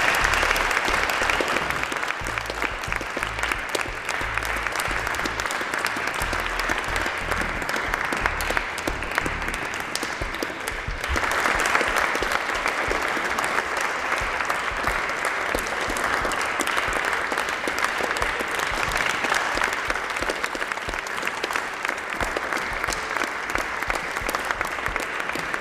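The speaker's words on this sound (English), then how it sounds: "So a round of applause for Step Forward." Audience at a community event clapping for the Step Forward fire service partnership, sustained loud applause lasting throughout, with a low hum early on and no voices over it.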